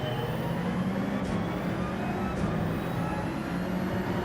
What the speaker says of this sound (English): The acceleration of the Citroen.